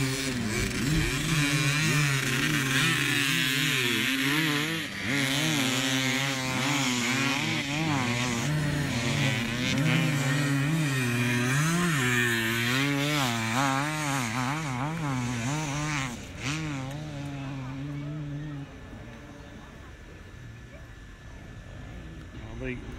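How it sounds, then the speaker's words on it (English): Two KTM enduro motorcycles from an extreme race ride through woodland, their engines rising and falling and revving hard up close before fading into the distance, with a commentator talking over them. "The two Eurotek KTM riders coming through"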